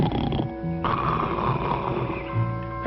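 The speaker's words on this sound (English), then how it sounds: "And there I go snoring again before I'm asleep." A man snoring in an old radio comedy scene, steady loud rasping breaths carrying on without pause over about three seconds, close and filling the space.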